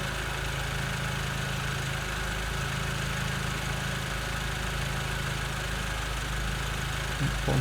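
A car engine idling steadily with normal emissions and no unusual behavior, a constant low hum and even vibration throughout, close and unchanging.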